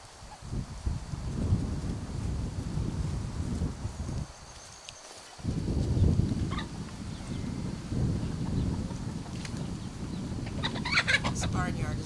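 Chickens and a rooster cluck and call around a barnyard, close by and fairly loud, with a person talking over them for much of the time.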